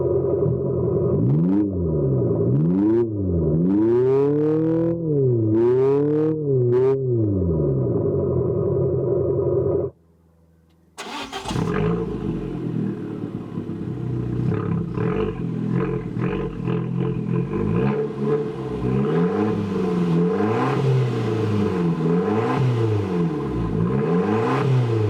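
Synthetic engine-like roar played externally by an Abarth 500e electric car, rising and falling in revving sweeps, loud and close, pausing briefly midway before a second, harsher burst of simulated revs.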